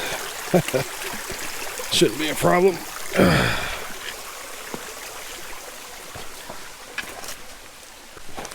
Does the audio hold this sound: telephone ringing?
no